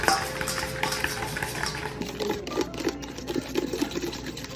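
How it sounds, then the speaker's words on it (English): Eggs being beaten in a bowl for toffee cookies make a quick, rhythmic clatter of a whisk or utensil against the bowl, fairly close and steady. "And we are back to beating these eggs up."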